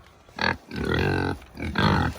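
Pigs on a farm grunting up close, loud deep snorting bursts, one short then two longer, with no talk over them.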